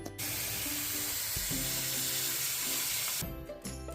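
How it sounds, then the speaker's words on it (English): Cold running tap water pours steadily over blanched broccoli in a sink, a continuous broadband hiss with splashing that stays loud and close, with faint background tones underneath. "Rinse it with cold water to stop the cooking process."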